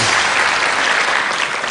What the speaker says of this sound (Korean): 박수 한번 하시고요.